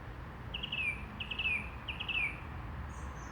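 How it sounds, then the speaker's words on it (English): A bird beside a park gives three quick bursts of high chirping trills, clear but not close, over a steady bed of insect and outdoor background hum. "a very nice bird in the background"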